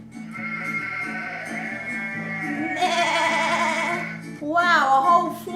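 A flock of sheep bleats in long, wavering cries, with more bleats joining and a rising, shaky call near the end, close and fairly loud.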